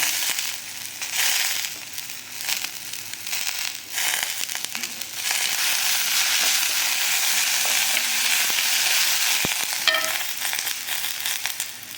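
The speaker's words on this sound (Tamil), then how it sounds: "இப்போ நம்ம கருவேப்பிலை போடலாம்." Curry leaves crackle and spit in hot oil for a banana stem soup, a loud continuous sizzle with bursts of popping and spattering up close, no voices.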